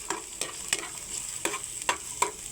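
Garlic sizzles in a pan for a vegetable stir-fry, ginisang gulay. A spatula scrapes and stirs in about six rhythmic strokes over a constant frying hiss, close by and moderately loud, with no talking.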